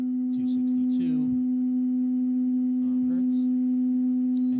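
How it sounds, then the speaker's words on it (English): A modular synthesizer holds a steady near-sine tone at middle C, loud and unbroken from start to end, with faint harmonics above it and brief background noises passing underneath. "It's not a pure sine wave,"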